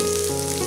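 Green chillies hit hot oil in a kadhai with cumin seeds, giving a brief, steady, close sizzle with no voices.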